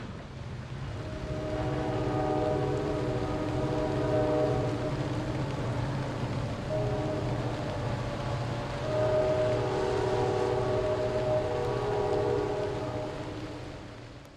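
A Reading & Northern freight train labors up a steep grade, diesel engines droning loudly and steadily with a pulsing throb, while a long horn sounds in sustained blasts over the rumble.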